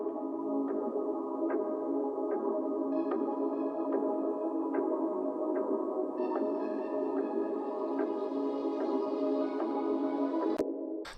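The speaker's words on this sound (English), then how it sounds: "So it's just a super simple pad chord progression with some sounds like a perc loop in the background" A sample built on a super simple sustained pad chord progression with a light percussion loop ticking in the background, steady and full throughout with no voices.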